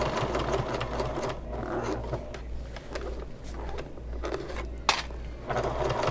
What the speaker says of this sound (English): I'm sewing to the left of the seam I already put in there